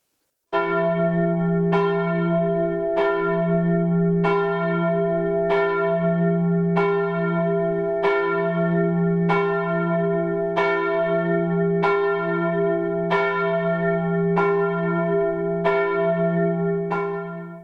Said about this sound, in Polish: Czy te dzwony muszą tak dzwonić codziennie?